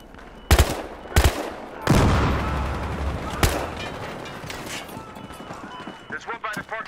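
Gunfire from the video game Battlefield Hardline: four loud, close shots ring out at uneven intervals, each trailing into a noisy battle din, with voices talking over the action.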